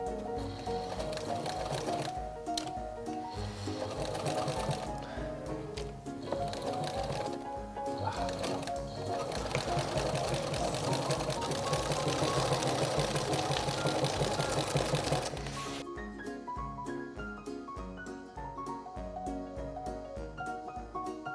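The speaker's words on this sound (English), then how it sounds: "we give it like a 1 centimeter break from the edge and just stitch it carefully" Sewing machine stitching a tote bag made from fused plastic bags, a steady rapid mechanical chatter that runs for most of the stretch before stopping and leaving quieter handling noise.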